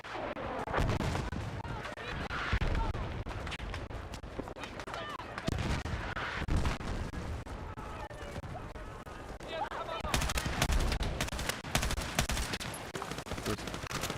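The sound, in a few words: mortar fire in video game Battlefield 6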